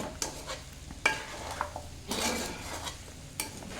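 Four green chilli slits are stirred into a chicken fry, making clattering spoon-against-pan scrapes and knocks in short bursts over a faint background sizzle.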